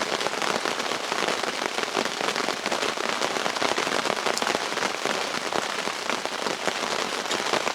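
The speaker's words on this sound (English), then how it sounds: "11 o'clock Sunday, and it's pouring down." Heavy rain pours down at a fishing lake, a dense, constant hiss of drops pattering on surfaces close by, steady throughout with no voices.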